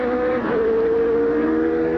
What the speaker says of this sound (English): watch the McLaren Honda of Ayrton Senna of Brazil cross the start-finish line